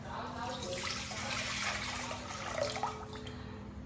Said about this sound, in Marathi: पहिले ह्याच्यात पाणी टाकायचं आहे.